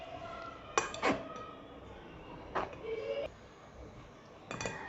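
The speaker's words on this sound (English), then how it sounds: "let's begin with the sifting of our dry ingredients" Dry cake ingredients, cocoa powder among them, are sifted through a metal sieve, making a few sharp tapping and rattling bursts separated by quiet pauses, close and moderately loud.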